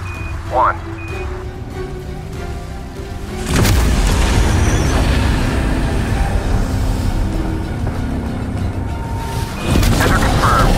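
Airstrike explosions in the video game Call of Duty: Black Ops Cold War, a heavy boom at about three and a half seconds followed by sustained rumbling blasts, with a later surge, amid game sounds and a voice.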